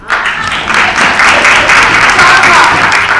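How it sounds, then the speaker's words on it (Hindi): Audience applause fills a meeting convened against Brij Bhushan Singh, a dense, steady clapping from a crowd that holds loud for the whole stretch. "सबको सहमति है तो ताली।"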